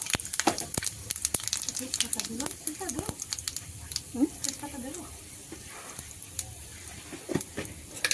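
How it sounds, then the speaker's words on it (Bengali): Panch phoron spices dropped into hot oil in a wok, a faint crackling sizzle with scattered pops and rustles, heard under a person talking. "এই যে কড়াতে তেল গরম দেওয়া হয়ে গেছে এর মধ্যে ফোড়নের জন্য পাঁচ ফোড়ন দেওয়া হলো"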